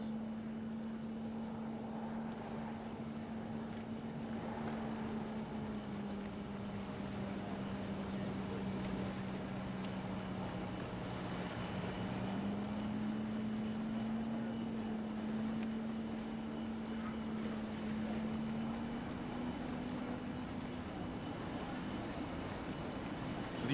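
The U7 Spirit of Detroit unlimited hydroplane racing boat idles slowly along the front straightaway on Mission Bay, a steady engine drone at a distance with a slight rise in pitch midway, mixed with wind noise on the microphone.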